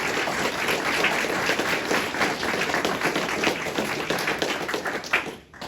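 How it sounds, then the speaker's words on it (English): An audience applauds veterans at an evening event about World War II and Hershey. The clapping is brisk and close, sustained for about five seconds, then drops away abruptly. "Let's give them a round of applause"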